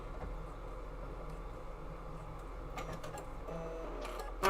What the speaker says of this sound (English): I'm going to go ahead and back tack my 1/4 of an inch